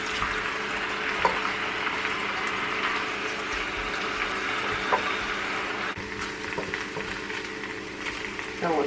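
Beef carne ranchera browning in a pan gives a steady, moderate frying hiss with soft crackles, punctuated by a few brief utensil taps, continuous throughout.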